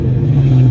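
Ford Mustang GT with the 4.6 engine and an X-pipe exhaust, New Edge body with 4.10 gears: a loud, deep, rumbling rev that swells slightly over a brief moment, close by.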